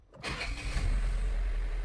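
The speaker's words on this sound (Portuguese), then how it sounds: "motor ligado, né? Então você para com esse ruído" A 2022 Jeep Commander Limited SUV engine starting: a short crank burst, then a steady, close, loud idle rumble continuing to the end with no talk.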